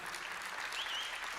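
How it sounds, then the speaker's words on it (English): An audience at a live concert gives a steady round of applause for the band's fiddle player, a dense, fairly faint wash of clapping with a faint whistle rising through it. "Give her a round of applause."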